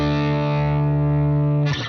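Telecaster electric guitar through BIAS FX with a pushed, overdriven tone and EQ cuts around 4K, 8K and 16K, a single sustained distorted chord ringing loud and close, then a scratchy pick noise at the end.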